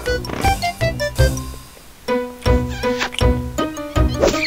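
A cartoon cat in the Toontown video game gives a string of loud, tuneful meows in quick bursts, some drawn out, with no talk over them.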